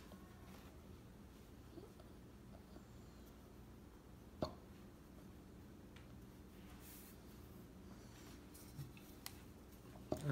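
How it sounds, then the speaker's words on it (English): A child hiccups at home during a homeschool lesson. A couple of faint, brief hiccups stand out against a quiet room. "You have hiccups."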